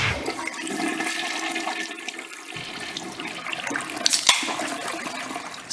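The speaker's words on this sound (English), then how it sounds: "The Flush." A toilet flushing, its rushing water loud and close for nearly six seconds, with a brief sharper gurgle near the end of the flush and no talking over it.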